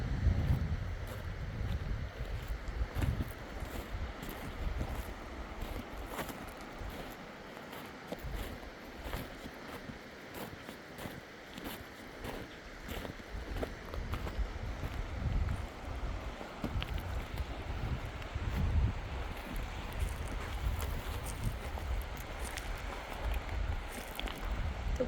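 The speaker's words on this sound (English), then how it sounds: "The wind has a bit of a bite to it." Wind gusting outdoors beside the Klamath River above Jenny Creek, a steady broadband rush with low rumbling buffets against the microphone, continuous and fairly loud for the whole stretch with no voices.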